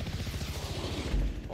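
Rapid gunfire rattles in Call of Duty Black Ops Cold War, a fast rhythmic burst of shots at moderate loudness with a heavier thud near the end.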